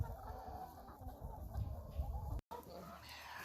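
Hens on a small mini farm cluck softly and steadily in a quiet coop, with a brief dropout partway through and low background rumble.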